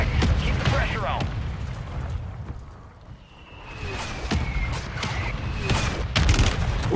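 Gunfire in the video game Warzone 3: scattered sharp shots and short bursts crack across a busy battlefield, some close and loud, others farther off, with a low rumbling background and voices mixed in.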